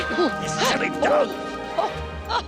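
A dog barks in several quick yips and woofs close by, short bursts spaced across a couple of seconds with faint background noise.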